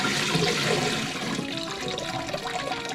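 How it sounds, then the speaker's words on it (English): Hot tap water runs steadily into a basin to soak a single yarn skein, a close, constant rushing gush of water with no voices. "I use the hottest water I can get from the tap"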